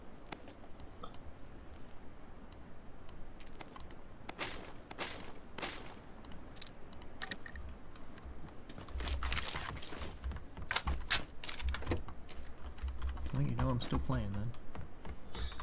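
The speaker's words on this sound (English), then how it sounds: "Your keyboard is so loud." Loud computer keyboard picked up by a nearby microphone, bursts of sharp clicky keystrokes in irregular runs, with people talking over it.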